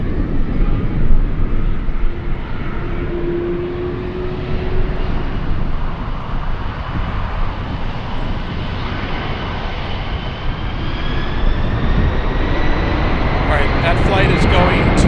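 Airliner jet engines roar at Frankfurt Airport as a continuous loud, broad rumble and whine that holds steady for the whole stretch, with a faint rising tone near the end.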